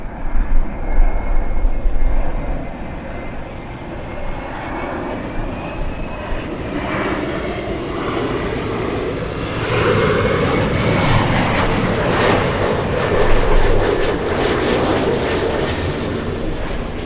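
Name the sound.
SkyWest flight 6212 airliner arriving at LAX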